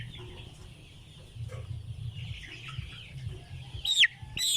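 Laying hens on a poultry farm, some with coryza, cluck softly and steadily, with a few sharper, louder calls near the end.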